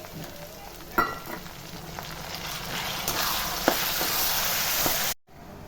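Tomatoes and onions fry in a pan for paruppu urundai kuzhambu, giving a steady, close sizzle with a few sharp clicks from stirring, and the sound cuts off abruptly near the end.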